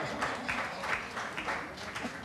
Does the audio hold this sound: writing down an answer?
no